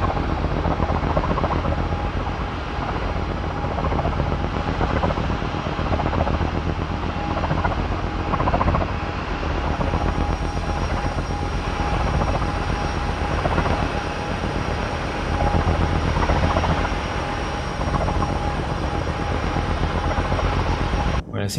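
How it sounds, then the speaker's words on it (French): Engines of the Halo Pelican dropship in Microsoft Flight Simulator hum and whine steadily, loud and close, as a dense continuous turbine-like drone with a high tonal whine that holds without a break. "Je vais vous monter le son des moteurs"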